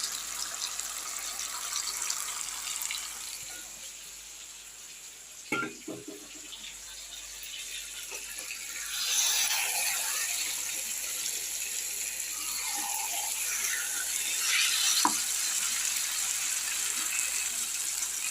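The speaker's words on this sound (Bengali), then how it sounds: "এবার আমি এটা দিয়ে দিলাম চিকেনটা" Raw chicken sizzling loudly in a pan of well-fried spice paste, a steady broadband hiss with a few sharp clatters of a spoon against the pan.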